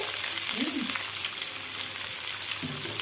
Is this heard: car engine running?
no